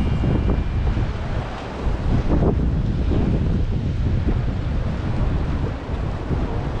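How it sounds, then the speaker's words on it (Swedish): Strong, warm wind in Torrevieja, Spain buffets the microphone in heavy gusts, a loud continuous roar with rumbling surges throughout. "ni hör och ser ju säkert att det blåser."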